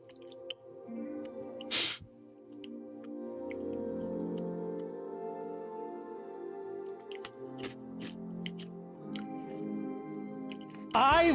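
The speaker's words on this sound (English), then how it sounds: "Am I munching too loud?" Loud, close chewing and munching with wet squishy mouth sounds from one person eating food, steady throughout, with a few sharp clicks and breaths.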